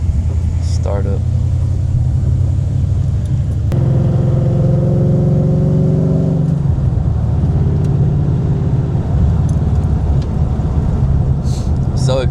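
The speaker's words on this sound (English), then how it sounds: "It's just a startup. I don't know why Coyotes are so freaking loud." A Ford Coyote V8 fires up and idles loudly in a swapped car, a brief high-revving flare after the start settling into a deep, steady rumble; people talk over it.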